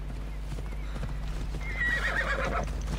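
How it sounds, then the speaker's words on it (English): A horse in Assassin's Creed Odyssey gallops with close, rhythmic hoof clip-clops over a steady low hum, then lets out a loud, drawn-out neigh in the second half. No one speaks. "where's my horse? Horse!"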